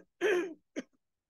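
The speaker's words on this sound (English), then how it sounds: "I'm having a little bit of a cough" A person clears their throat once with a rough, rasping sound, then gives a short, quieter cough, close up, with silence around them and no talking.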